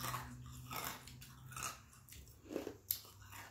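Close, wet crunching and biting as snow crab is eaten in a seafood mukbang, irregular chewing and cracking sounds near the microphone with a small snap near the end.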